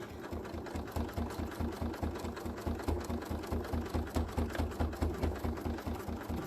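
Sewing machine running a very small zigzag stitch on fabric, a close, steady rapid mechanical chatter with even pulsing rhythm that continues without pause and without speech.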